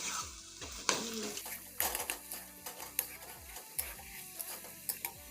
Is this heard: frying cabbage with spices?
yes